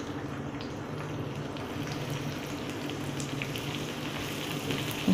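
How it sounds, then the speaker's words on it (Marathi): Two finely chopped onions frying in a pan until reddish brown, a steady soft sizzle and crackle that stays even from start to finish. "आणि इथे मी 2 कांदे एकदम असे बारीक चिरून घेतलेले आहेत, ते याच्यामध्ये चांगले असे लाल कलर होईपर्यंत मस्तपैकी असं भाजून घ्यायचे"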